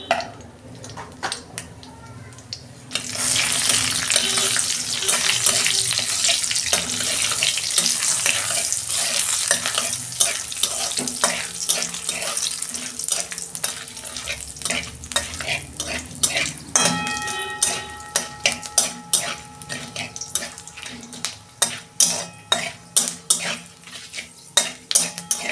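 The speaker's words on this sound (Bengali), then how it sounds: "শুকনো লঙ্কা 3টে দিচ্ছি আমি। আর 5 ফোড়ন দিচ্ছি।" Dried red chilies, a bay leaf and Bengali five-spice tempering sizzle steadily in hot oil for a kachu shak dish, with frequent close scraping and clinking of a spatula stirring the pan.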